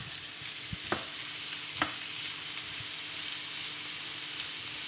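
Zucchini being stirred in a pan over moderate heat, a steady soft sizzle with a few brief scraping clicks of the spoon, fairly close and with no talking.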